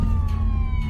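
An ambulance siren wails steadily, a loud close tone over a deep engine rumble, heard only briefly.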